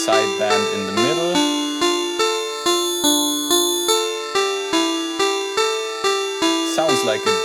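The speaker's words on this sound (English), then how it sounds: "Sounds like a bit crusher or some sample rate reduction to me when you do it like this." OP-1 Field synthesizer sequence processed by its CWO effect, with a gritty bit-crushed, sample-rate-reduced character and metallic ringing overtones over a pulsing repeated pattern, loud and up front.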